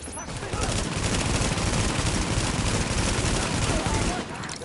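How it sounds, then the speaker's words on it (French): Blind gunfire in the shooter game The Division: a dense, continuous fusillade of rapid shots that fills several seconds at steady loudness, then cuts off abruptly. "Ça, c'est ce qu'on appelle du tir à l'aveugle"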